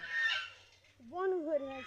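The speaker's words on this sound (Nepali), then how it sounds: "यो पोते मयुर त्यो चाहिँ भाले मयुर" A loud, honking peacock call rises and wavers in a few harsh bursts, following a brief high-pitched cry, with faint background noise.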